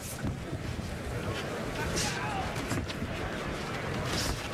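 Steady, roaring wind with gusts up to 40 mph buffets the microphone throughout overlooking the Las Vegas Strip, with rushing broadband noise and a few stronger gusts swelling briefly.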